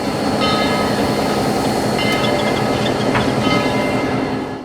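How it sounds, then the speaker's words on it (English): Southern Railway 4501 steam train with a diesel engine in tow rolls past in a steady, close rumble with light wheel clatter and brief higher tones. "in some shots the train has a diesel engine in tow."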